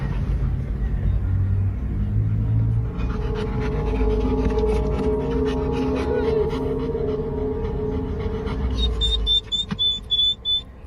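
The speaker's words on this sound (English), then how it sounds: "They've definitely got a dog near them. I can hear it whining and whimpering and panting." A dog pants loudly and steadily close by, with faint whines and whimpers mixed in, over a low rumbling background; a high whining tone rises near the end as the panting breaks into short bursts.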